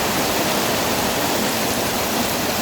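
Heavy rain drums steadily on the corrugated tin roof of a village house in Bangladesh, a dense, loud, unbroken hiss of close drops with no voices.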